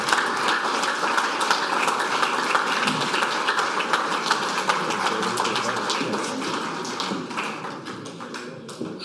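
A symposium audience applauds its speakers at an evening event on energy, a dense, steady spread of clapping that holds for several seconds before easing slightly at the end.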